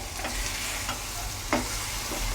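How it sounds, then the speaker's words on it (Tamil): Broad beans and egg get stirred with pepper powder in a pan, a soft continuous frying hiss broken by a few light scrapes of the spatula, close and unaccompanied. "இதை கலந்து விட்டுடலாம்"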